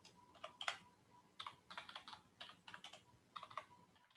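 Keys tapped on a computer keyboard at a command prompt, quiet close-up typing in irregular short bursts and clusters of clicks, with no voices.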